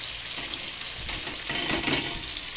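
Kalai dal lentil fritters fry in oil with a continuous close sizzle and bubbling, with light stirring sounds swelling slightly toward the end.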